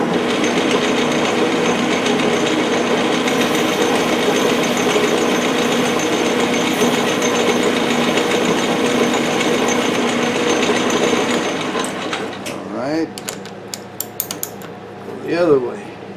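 Metal workpiece being chamfered in a home machine shop, a loud, continuous mechanical grinding hum with rattling texture that fades out near the end into a few clicks and brief whirring spin-downs.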